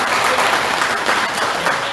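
Steady, dense applause from a village residents' council meeting audience, loud and continuous throughout with no pauses, many hands clapping together in a hall.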